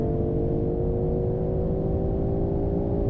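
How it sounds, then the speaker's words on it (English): BMW M340i xDrive engine running with a steady, growly drone and sustained harmonic tones, holding a fairly constant pitch throughout at moderate loudness, with no talk. "So the sound of the engine has a good amount of muscularity to it. It sounds, growly at low to mid RPM range."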